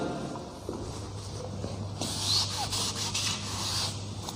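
Chalk writing being rubbed off a classroom board during a chemistry lesson, a soft continuous scraping swish that swells in the second half, close and moderately quiet with no talk.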